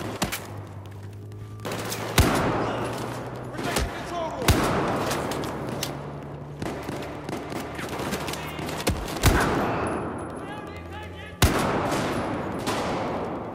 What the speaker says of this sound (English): This sniper rifle is freaking beast